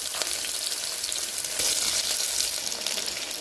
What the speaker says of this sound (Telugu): ఒక గరిట ఆయిల్ వేసి పోపు పెట్టుకోవాలి కరివేపాకు ఇలా ఇలా పోపు వేయగాక మనం చాప్ చేసుకున్న పొటాటోస్